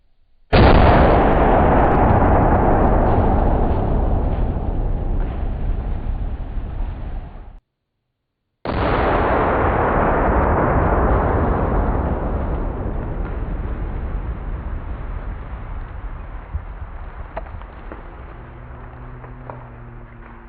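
Two loud outdoor muzzle blasts from a .50 caliber BMG rifle, each a sharp, powerful boom followed by a long rolling rumble that slowly fades, the second shot coming about eight seconds after the first.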